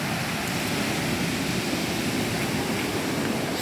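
Rough sea waves break in a steady, loud roar of surf that fills the whole stretch without pause, with no voices over it.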